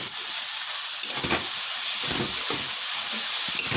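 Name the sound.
spices sizzling in hot pan with water added for prawn curry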